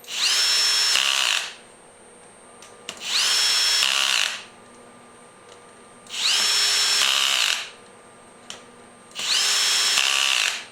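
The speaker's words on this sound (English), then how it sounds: "Tighten the 12 bolts." A power drill tightens the bolts on a six-jaw lathe chuck in four loud whirring bursts of about a second each, separated by short quiet pauses and faint clicks, close by.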